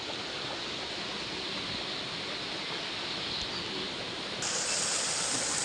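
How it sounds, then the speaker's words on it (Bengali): Continuous loud rush of flood water pouring into a house during monsoon rain, a broad steady hiss that swells slightly near the end, with no talking. "দেখছো আওয়াজ শুনছো বাড়ির এত পরিমাণে জল ঢুকে যাচ্ছে বাড়িতে"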